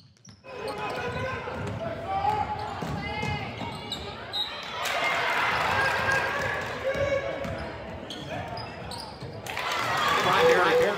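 A basketball is dribbled during a high school girls' game at Auburn High School, its bounces partly buried under a commentator talking and a busy gym crowd.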